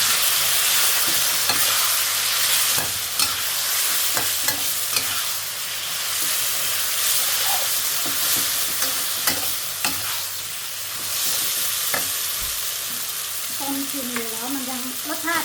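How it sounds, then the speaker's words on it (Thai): Mashed eggplant stir-frying in hot oil, a steady close sizzle with scraping stirring strokes, and a voice speaking briefly near the end. "พอหอมแล้วเราก็จะเอา ตำบะเขือลงไปผัดน้ำมันค่ะ"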